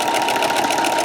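A sewing machine fitted with a walking foot hums steadily and loudly at medium speed, a continuous close mechanical whir with a rapid rhythmic pulse throughout.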